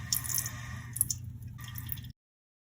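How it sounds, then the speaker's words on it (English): Faint water trickling and dripping inside a toilet, a quiet continuous flow with small droplet plinks, then abrupt silence. "Does your leaking toilet sound like this?"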